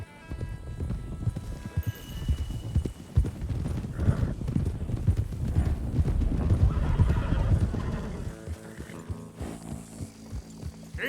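Several horses gallop in Red Dead Redemption 2, with a steady clip-clop of hooves, whinnies and snorts over an outdoor backdrop. The sound rises and falls as the herd moves, and a faint hum runs beneath it.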